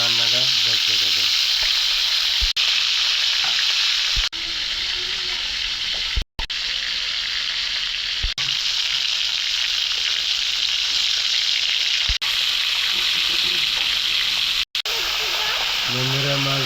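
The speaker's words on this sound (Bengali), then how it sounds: "মাছ ভাইজা তুলে নিচ্ছি, আর আলুটা একটু হালকা ভাইজা নিই" Rui fish and potatoes fry in a pan, giving a loud, constant sizzle with brief stirring clatters and a short break partway through.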